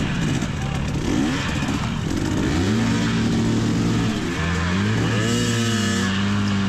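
A dirt bike with an overheating engine and a malfunctioning clutch lever works through a rough trail section in a scramble race. The motor revs up and down loudly and steadily, with no one speaking.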